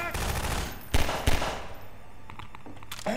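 Gunfire aimed at headcrabs in Half-Life 2: two sharp, loud shots about a third of a second apart, then a few fainter clicks and pops over steady game ambience.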